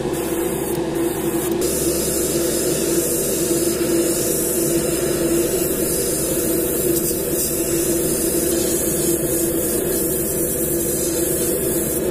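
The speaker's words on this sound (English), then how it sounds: "Just spray that real light with this copper on the belly." A continuous hissing spray from an airbrush applying copper paint to a jerkbait fishing lure runs steadily throughout, close and even, with no pauses or talk.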